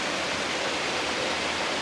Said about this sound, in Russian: И шум воды, шум ручья, шум водопада.